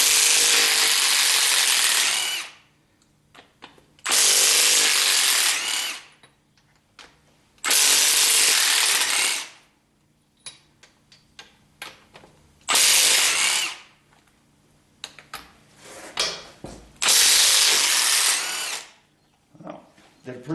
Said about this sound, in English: So this is the 12 Milwaukee, I guess they call it stubby impact wrench